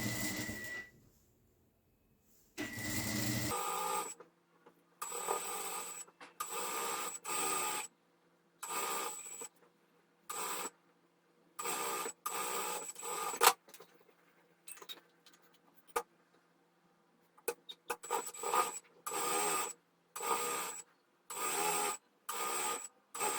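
Sewing machine stitching along the edge of tricoline cotton fabric for a pillowcase, quiet rapid mechanical chatter in repeated short bursts separated by pauses, no voices.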